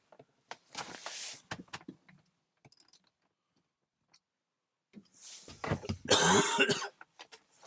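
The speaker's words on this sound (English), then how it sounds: "You just coughed all over me." Two bursts of coughing, a short one near the start and a harsher, louder fit later, with faint clicks and rustling in the quiet gaps.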